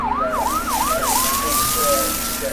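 Fire engine siren wailing nearby, several quick rising-and-falling sweeps followed by a long sustained tone, loud and alone.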